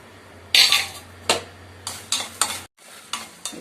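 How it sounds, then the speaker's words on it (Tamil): Dried red chillies dry-roasting in a pan, with a few sharp metallic scrapes and clinks of a spoon stirring at irregular intervals over a faint low hum, no voices. "இப்போ மிளகாயும் நல்லா வறுத்தாச்சு"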